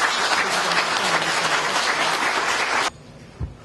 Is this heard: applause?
yes